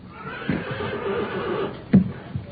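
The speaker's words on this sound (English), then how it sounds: "You're sure a grand little horse." A horse gives a short whinny close up, with a brief burst of sound near the end, heard alone without talk.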